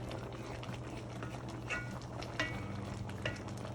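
A pot of Jamaican stewed peas with pigtail and beef bubbles softly while a spoon stirs it, faint close scraping and clinks over a low simmer.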